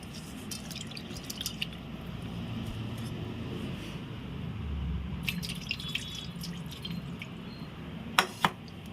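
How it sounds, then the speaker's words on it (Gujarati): Dal lentils are rinsed in water in a home kitchen for a Gujarati dal bhat, with faint sloshing, soft drips and a couple of sharp clinks near the end, quiet overall. "દાળ 1 થી 2 પાણીમાં ધોઈ નાખવાની છે।"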